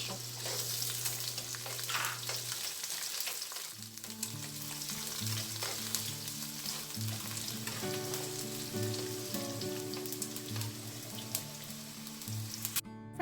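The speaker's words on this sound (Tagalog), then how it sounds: "At pag mainit na yung ating cooking oil, ipapan-fry natin yung ating carrots." Carrots fry in hot cooking oil in a pan, giving a loud, continuous sizzle and crackle, with stirring and a low hum underneath throughout.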